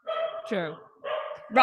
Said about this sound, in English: hey, my dogs are my dogs are joining in.